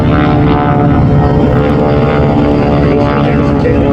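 A silver PT-13 biplane with fixed landing gear drones past at the Wings over Houston air show, its propeller engine loud, close and continuous throughout.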